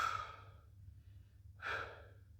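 Two slow, deep breaths taken during a Pilates stretching exercise, each a soft airy exhale separated by a short pause, close and quiet with no talking.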